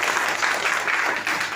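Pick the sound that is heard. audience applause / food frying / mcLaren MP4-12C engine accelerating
audience applause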